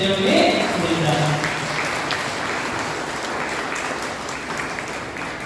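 A church congregation at Holy Mass in Proddatur, Kadapa district claps loudly and steadily for several seconds, a dense, sustained burst of applause filling the space with voices faintly mixed in at the start.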